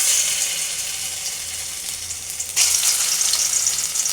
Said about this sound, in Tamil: ஒரு கடாயில் எண்ணெய் ஊற்றி எண்ணெய் காஞ்சதுக்கப்புறம் நம்ம செஞ்சு வச்ச வடையை சேர்த்துக்கலாம்.